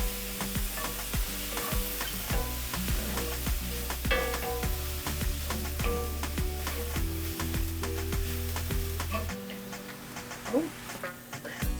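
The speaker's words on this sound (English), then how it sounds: "let's add the TVP to the pan and get that all coated." TVP frying and being stirred in a pan: a steady close sizzle with repeated scraping stirs and small ticking pops throughout, no talking.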